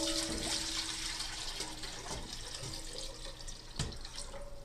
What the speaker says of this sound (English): In order to give it a little bit more weight, we're even going to add some water to this.